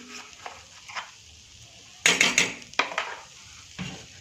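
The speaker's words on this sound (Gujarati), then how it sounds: "હવે આને બરાબર હલાવી દઈશું." A utensil scrapes and clinks against a hot pan, stirring semolina with grated coconut, in a few short bursts, with a faint sizzle between strokes, fairly close.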